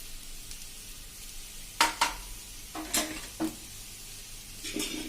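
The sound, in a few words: chopped coriander added to sizzling potato chips in pan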